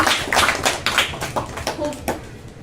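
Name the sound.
audience applause for Shibam Das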